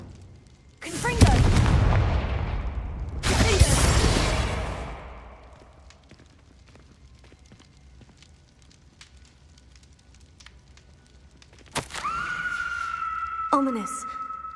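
A Confringo blasting spell detonates in a fantasy video game, two loud roaring explosive bursts with long crackling fire tails, then a quieter magical shimmer and a sharp chiming ring near the end.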